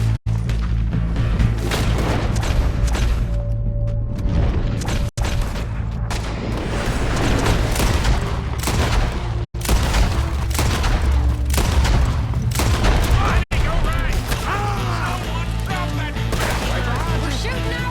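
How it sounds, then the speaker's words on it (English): Sustained gunfire in Red Dead Redemption 2 during a bank robbery shootout, loud dense volleys and booms crashing continuously with brief drops, voices shouting over the fight. "We're shooting our way out of here, boys!"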